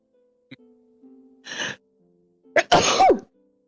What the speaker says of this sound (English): I gave you a sneeze as well.